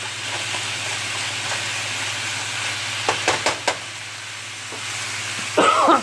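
Beef sizzles steadily in a pot for a Mediterranean stew, a constant close frying hiss with a few sharp knocks and clinks of a utensil against the pot.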